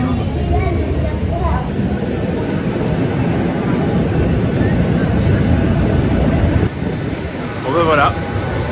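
An airplane taking off at the start of a trip to Croatia: a loud, steady engine roar that fills the whole stretch and swells slightly before easing off near the end, with faint voices partly buried underneath.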